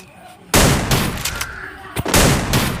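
Gunshots in the battle-royale video game Free Fire: a loud sudden burst of firing, a few sharp separate shots, then another burst of rapid fire, with faint talk in the background.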